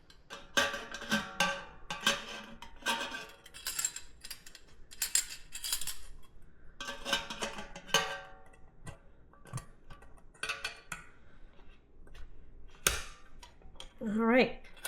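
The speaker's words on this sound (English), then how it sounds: "I can go ahead and put the lid on" A metal lid is fitted onto a keg of cyser mead, giving a series of sharp ticks, clicks and light metallic clatter in irregular bursts, close by, with some talk in between.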